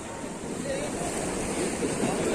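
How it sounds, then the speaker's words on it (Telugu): Ocean waves washing onto Anjuna Beach in Goa, a steady broadband surf rush with wind noise, moderately loud and continuous through a brief moment. "ఇప్పుడు మనం ఉన్నాం అంజనా బీచ్."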